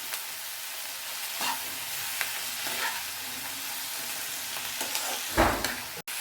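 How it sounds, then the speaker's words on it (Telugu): Methi and tomato curry sizzling steadily in a pan while being stirred, with soft scraping and clinking from the spoon and a louder scrape near the end, close and moderately quiet. "మళ్ళీ బాగా కలపాలి."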